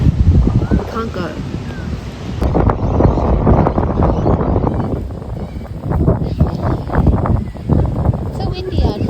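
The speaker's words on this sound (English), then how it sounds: "So windy out here." Strong outdoor wind buffets the microphone as a steady, loud rumble during a marathon training run, with people talking over it throughout.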